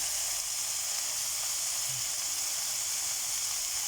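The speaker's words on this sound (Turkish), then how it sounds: "Kaynıyor." A steady, close hiss of bubbling water fills the whole stretch, constant and fairly loud with no voices.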